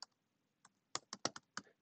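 Someone types a layer name on a computer keyboard, a short burst of about eight crisp key clicks, a lone tap and then a quicker run, close and clear with no talking.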